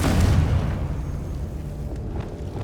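A Confringo fire spell explodes in Hogwarts Legacy, one heavy, close boom at the start that decays into a rumbling tail, with a few faint pops afterward.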